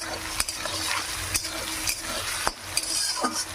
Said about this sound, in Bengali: এই দেখুন, পেঁয়াজটা ভাজা হয়ে গেছে